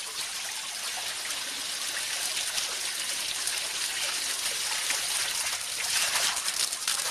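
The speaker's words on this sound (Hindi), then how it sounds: "2 मिनट तक इस तरीके से सिर पर पानी डालते जाए।" Water is poured steadily over a person's head during a bath, a continuous close splashing rush that swells slightly toward the end, with no talking.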